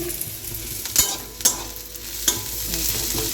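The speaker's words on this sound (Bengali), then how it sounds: "রসুন পেঁয়াজ আর একটু লঙ্কাকে ভালো করে ভেজে নিচ্ছি" Garlic, onion and chili sizzle in a frying pan while a utensil stirs them, with a few sharp scraping clinks over the steady frying hiss.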